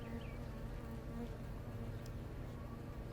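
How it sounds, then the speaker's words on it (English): Agitated honey bees swarm the entrance of a Langstroth hive, a dense steady buzz that fills the whole moment close to the listener, with no talking. "You can see the bees right outside the entrance of the hive are getting a little more agitated."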